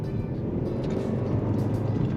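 Steady engine and road rumble from a 2023 Kia K5 GT Line driving along a winding back road, a low continuous drone heard from inside the car with faint tire noise and no talking.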